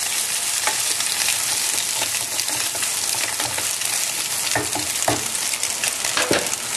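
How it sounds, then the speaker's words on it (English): Cooked egg noodles fry with a steady, loud sizzle in a pan for Singapore Hokkien mee, while a spatula scrapes and stirs through them in a few sharper strokes toward the end; no one speaks. "Stir it well."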